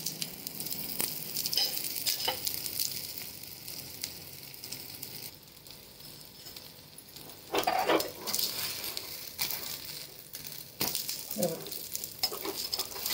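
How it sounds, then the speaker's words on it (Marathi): A soft, spongy bun dosa cooks in a pan over a low-to-medium flame, giving a steady close sizzle with occasional louder bursts and light clinks of a utensil. "medium फ्लेमवरच low to medium फ्लेमवरतीच भाजायचा dosa"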